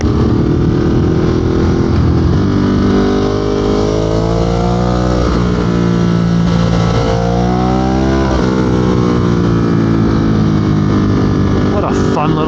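A 2022 Ducati Monster engine hums steadily while riding, rising and falling through short rev blips with a few clear pitch sweeps; wind rushes throughout, and a rider's voice talks over it at moments.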